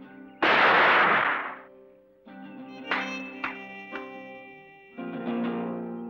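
A loud gunshot boom followed by a few sharper cracks and another blast, over sustained dramatic music, in a 1984 Hindi film.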